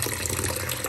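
Water pours steadily into a clay pot for prawn curry at an outdoor cooking spot in Batticaloa, a brief continuous splashing gush with no talk.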